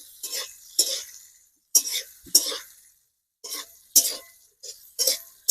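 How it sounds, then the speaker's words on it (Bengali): Chopped carrots, beans and green chillies are stirred in a pan in short, close scraping strokes, about eight in a row with quiet gaps between them. "এবার চলো ভালো করে এগুলো ভেজে নিই"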